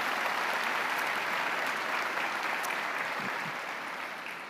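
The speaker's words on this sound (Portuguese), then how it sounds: "Pode aplaudir a Jesus?" Church congregation applauding during a sermon, a steady, dense wash of clapping from a large crowd that holds evenly and slowly fades toward the end.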